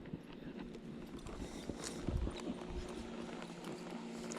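A horse walks during a riding workout, its hooves clip-clopping in a steady, close rhythm with a few heavier thuds mid-way over faint background noise.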